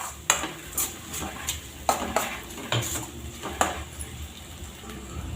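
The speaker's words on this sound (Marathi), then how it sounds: "आपण याला पण छान परतून घेऊ आणि तेल सुटेपर्यंत शिजवून घ्यायचे आहे" Masala stirred and sautéed in oil for egg masala, a spoon scraping the pan in repeated knocks over a steady low sizzle, close and without talk.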